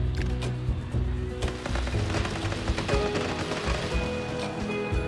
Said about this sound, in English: I don't mind a good fireworks show.